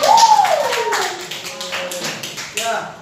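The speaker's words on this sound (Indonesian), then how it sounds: "tepuk tangan buat Feli" Small classroom group clapping, a dense run of hand claps throughout, with a voice sliding in at the start and more scattered claps toward the end.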